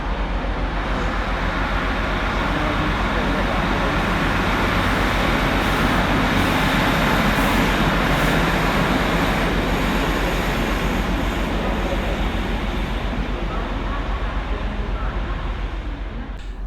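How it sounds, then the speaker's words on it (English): A Northern Class 150 diesel unit departs Manchester Victoria station, a dense, continuous rumble and roar holding steady for the whole stretch and easing slightly at the end, loud and close. "Next out two departures 150 109, working the 1109 Northern service from Blackburn through to Rochdale."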